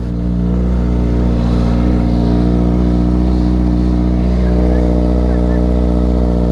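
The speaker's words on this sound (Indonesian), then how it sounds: "Biar bisa bawa motor yang ini." Motorcycle engine idling and revving as the rider sets off, a loud steady low rumble close by with a slight rise in pitch, while people talk over it.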